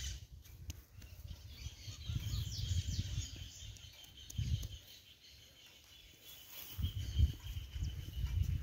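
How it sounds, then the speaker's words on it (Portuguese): A small bird chirps faintly in the background at a mud house, with louder low thumps and handling noise underneath. "Passarinho."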